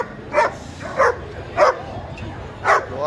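Four sharp barks from a dog at a busy Friday street market ring out close by in an uneven rhythm, each bark short and loud over a low hum of surrounding chatter and market noise.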